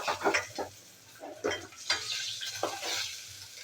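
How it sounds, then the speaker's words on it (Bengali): Tuna fish pieces fry in oil in a pan, a soft sizzle broken by close, irregular scrapes and clinks of a utensil turning and lifting the pieces, moderately quiet and without talk. "সব মাছগুলো এইভাবে লাল লাল করে ভেজে দিলাম।"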